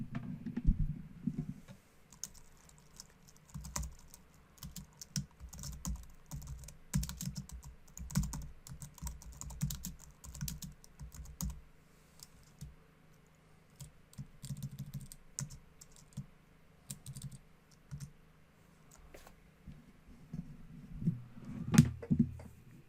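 Computer keyboard typing while entering text in Canva, a steady run of quiet close-up key clicks with short pauses, heard alone without talk.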